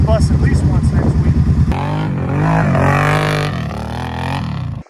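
Kawasaki KFX700 ATV engine running nearby, a pulsing idle that rises into a steady, louder drone as it revs, with people talking over it.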